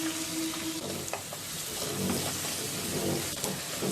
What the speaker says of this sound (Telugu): ఆయిల్ వేడైన తర్వాత ఉల్లిపాయ ముక్కలు, పచ్చిమిరపకాయ ముక్కలను వేసుకొని వేయించుకోవాలి.